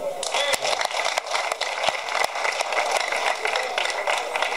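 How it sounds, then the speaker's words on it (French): A crowd at a union rally applauds, dense continuous clapping with crackly bursts and a few sharp claps standing out, sustained and fairly loud throughout. "Applaudissez-vous."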